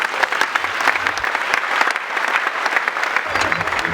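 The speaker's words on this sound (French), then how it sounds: "Kalamou, je vous prie de l'acclamer." An audience at a university academic-year opening ceremony claps steadily and densely throughout, a loud, sustained patter of many hands with faint crowd murmur underneath.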